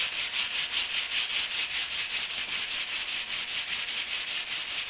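Steady back-and-forth rasp of a sanding block with 220 grit sandpaper working filler on a Jeep Commander fender flare, close and continuous in an even rhythm, with no speech.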